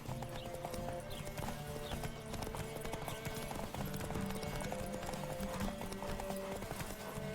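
Rapid, rhythmic hoofbeats of a galloping horse in The Witcher 3 video game pound steadily over a dense bed of music and ambient noise, with no talking.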